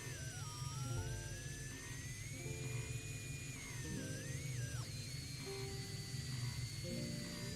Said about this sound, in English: This radio signal thing is so annoying, and it sounds like it's coming more out of Silent Hill than it is Final Fantasy VII.